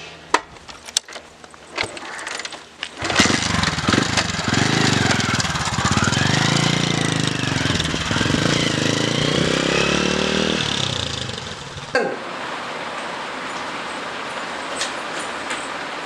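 A motorcycle engine runs loudly and close, a rough steady roar lasting several seconds with a rising rumble, then drops off abruptly to quieter background noise.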